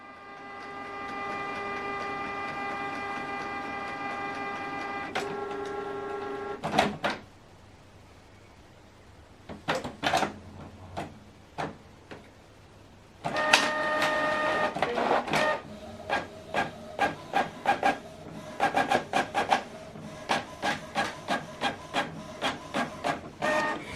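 Canon printer running a single monochrome document page: a steady mechanical hum, then a pause and a series of sharp rhythmic clicks and feed bursts as the page prints, close and alone.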